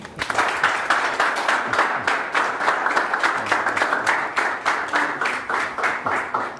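An audience at a youth ambassadors network launch conference in Haiti claps for an introduced speaker, a sustained, evenly paced round of applause with sharp individual claps, moderately loud and without talk.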